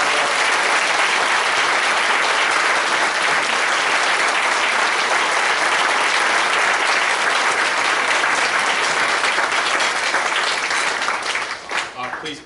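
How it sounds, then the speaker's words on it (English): A large audience gives a loud, sustained round of applause at a veterans talk, dense clapping that carries on steadily before thinning out in the last seconds. "can we give a great big round of applause for"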